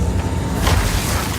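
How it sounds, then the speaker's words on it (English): An ice bomb spell explodes in Path of Exile 2 as a short, loud, dense boom that fills the moment and then holds briefly. "Ice bomb."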